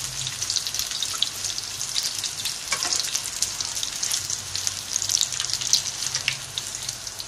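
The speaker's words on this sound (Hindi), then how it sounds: "इस तरह हम तमाम रोल अपने तेल में फ्राई कर लेंगे" Chicken vegetable spring rolls fry in hot oil, a steady dense crackling sizzle that runs unbroken and close throughout, with small popping spatters and no voices.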